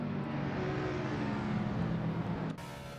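Mazda race car engine in a NASCAR racing game at Michigan, a steady droning hum that holds for a few seconds and then drops abruptly in level.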